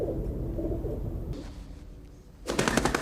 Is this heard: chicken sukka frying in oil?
no